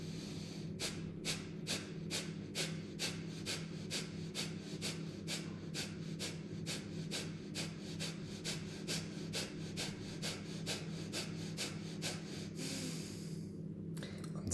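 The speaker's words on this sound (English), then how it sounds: "And we do Kapalabhati breathing here." Rapid Kapalabhati yoga breathing: a long run of sharp, forceful nasal exhalations pulsing at an even, quick rhythm for about twelve seconds over a steady low hum, then stopping.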